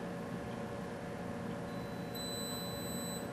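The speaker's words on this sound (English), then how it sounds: "When I want to turn it off, I'm just going to hold the button. It beeps." A police body camera gives a steady high electronic beep as it is held off, the tone holding evenly in a quiet room.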